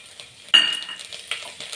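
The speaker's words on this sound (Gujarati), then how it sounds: "તેલ સેજ ગરમ થાય એટલે મેથીના દાણા અને લસણની કટકી નાખી દઈશું" Fenugreek seeds and chopped garlic drop into hot oil for a village-style kadhi, giving a sudden sharp sizzle that settles into a soft crackle and stirring, fairly close.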